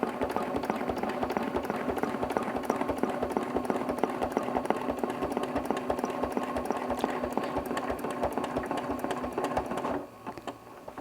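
Quilting with a ruler, a sewing machine stitches at a steady, fast rhythm for about ten seconds, close and even in level, then stops and leaves a quieter background.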